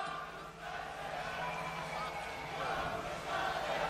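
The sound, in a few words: concert audience chanting a performer's name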